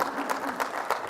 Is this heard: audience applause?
yes